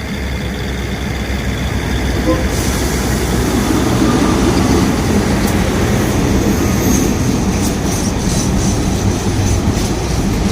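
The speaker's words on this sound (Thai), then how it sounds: "ส่วนในรางที่2นะก็เป็นขบวนรถดีเซลรางรถเปล่านะครับ" Diesel railcar train standing on a station track, heard as a steady, loud mechanical rumble with a faint metallic hiss above it that continues unbroken for about ten seconds.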